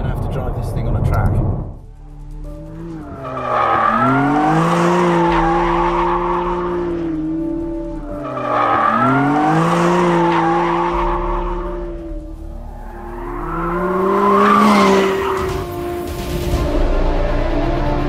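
A McLaren Artura supercar driving hard on a race track, its engine rising and falling through three loud, sweeping revs with possible tyre squeal in between, close and prominent throughout.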